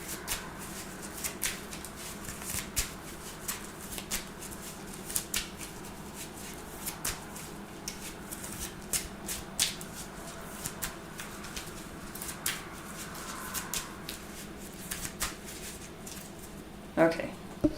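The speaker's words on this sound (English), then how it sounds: "I'm going to use Karen Page to go back and take Cross-Examination and shuffle it into the deck" Cards from a Marvel Champions deck are shuffled on a table in steady, soft riffling and shuffling bursts that keep going, with quiet room noise around them.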